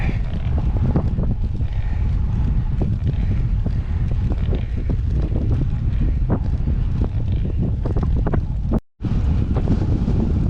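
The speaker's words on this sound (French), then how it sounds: "mais il y a du vent. Un petit vent de face là." Steady, loud wind buffets the microphone with a constant low rumble and gusty thumps, briefly cutting out near the end.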